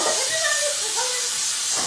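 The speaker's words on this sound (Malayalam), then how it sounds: "ആ കുക്കറിന്റെ സൗണ്ട് കുറച്ചാ, ആ സൗണ്ട് കുറച്ചാ കുക്കറിന്റെ." A pressure cooker lets off steam with a loud, steady hiss across the whole stretch, with faint whistling tones woven through it.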